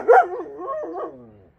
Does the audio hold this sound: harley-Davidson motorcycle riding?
no